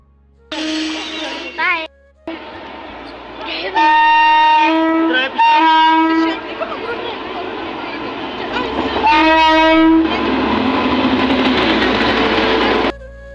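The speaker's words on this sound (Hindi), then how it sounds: "सो अब ट्रेन आ गई है" A passenger train at a station in Madhya Pradesh pulls in and leaves, with loud rumbling wagons, repeated blasts of the horn and a rising rush of passing cars, busy platform noise throughout.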